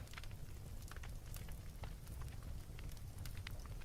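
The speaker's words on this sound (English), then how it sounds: "Allow the sound of the crackling fire to lull you into comfort." A fireside crackling fire: dense, sharp little pops and snaps scattered over a low, steady rumble, close and continuous without any voices.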